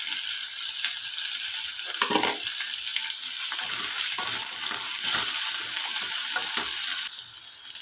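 Small onions, garlic cloves and chana dal fry in hot oil in a pan for murungai keerai poriyal, giving a loud, steady sizzle with occasional scraping stirs and no talk.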